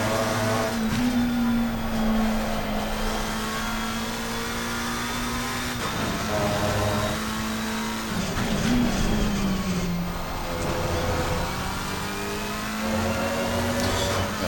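A McLaren race car engine drones steadily in Assetto Corsa Competizione at Kyalami, with several gear shifts and revving climbs punctuating the continuous loud game engine sound, without talk.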